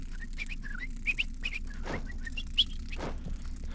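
A person whistles in short, bright chirping bursts that imitate a bird, a few quick trills near and clear, separated by soft thumps in the background.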